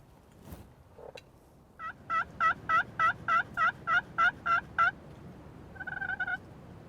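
Wild turkeys on an old Nebraska homestead, a rapid series of about ten sharp, evenly spaced yelping calls close by, followed by a shorter burst, with a few scattered clucks before, over quiet outdoor background.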